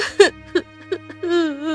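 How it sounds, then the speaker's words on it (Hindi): Cartoon crying sound effect from a 2D animation: a few short whimpering sobs followed by a longer wavering wail, close and fairly loud, with no talking over it. "तभी उसे किसी के रोने की आवाज आती है"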